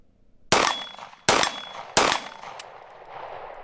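A Foxtrot Mike FM45 fed from a Glock magazine fires three sharp, loud shots outdoors, spaced under a second apart, each followed by a short ringing decay and a faint metallic clink.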